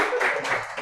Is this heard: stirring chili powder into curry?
no